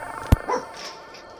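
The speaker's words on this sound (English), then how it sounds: "Also, sorry about the dog right now." A pet dog lets out one sharp bark, then a short whining yip that fades into quiet room noise.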